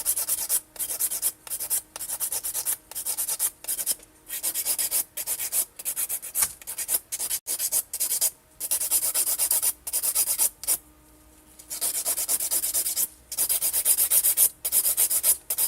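A nail file scrapes across builder gel nails in quick repeated strokes. The close, rhythmic rasping comes in bursts with short gaps and one longer pause, and no one speaks.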